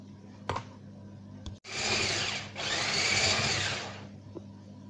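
An electric hand mixer whips butter for shortbread pastries in two loud continuous bursts of about a second each, with a brief pause between them and no talk.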